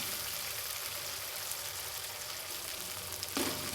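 Tomato fries in a pan before masala goes in, a steady dense sizzle running through the whole stretch with a brief stir or clatter near the end, fairly quiet and close.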